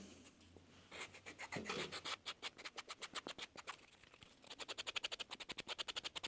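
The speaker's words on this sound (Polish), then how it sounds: "Teraz robię polerkę krawędzi." Rapid, rhythmic rubbing strokes close up as the edges of a small leather scent tag are burnished, building from uneven scrapes into a fast, steady back-and-forth rasp.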